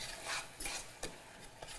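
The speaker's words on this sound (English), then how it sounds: "Stir it." Curry powder stirred in a pan, soft close scraping strokes with a few light knocks of the utensil against the metal, quiet and without talk.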